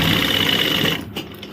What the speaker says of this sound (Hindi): उंगली से टटोलते हुए सिलाई लगा देंगे